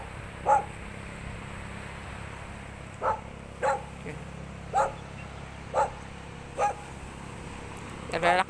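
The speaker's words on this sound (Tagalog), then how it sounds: "may aso, nakakatakot." A dog barks at a beach, seven single barks spaced a second or so apart, moderately distant, over steady outdoor background noise.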